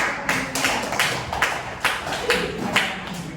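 Classroom applause comes as a scattered group of claps with several sharper peaks, moderately close, with faint voices underneath.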